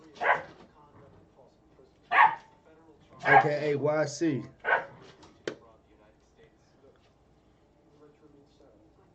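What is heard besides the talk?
dog barking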